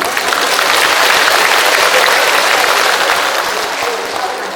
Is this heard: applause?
yes